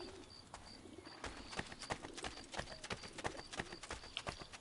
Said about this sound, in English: I need to ride my horse more.